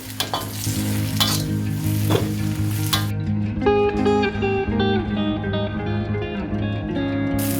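Four tomatoes added to a sautéed mixture for beef macaroni, a steady sizzling fry with stirring scrapes, joined midway by a tonal background hum.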